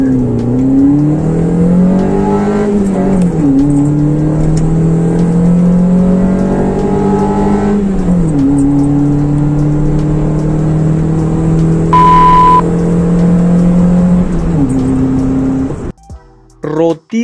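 Nissan Tsuru/Sentra B13 fitted with a high-flow air filter accelerating hard from 0 to 100 km/h: loud, close engine roar climbing in pitch through each gear, dropping at several shifts, with a short beep near the end.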